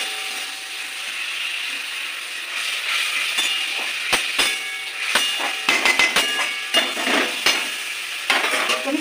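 Shrimp fry with spices in a pan, giving a steady close sizzle broken by sharp scraping and clacking as a spatula stirs and tosses them, with no voices.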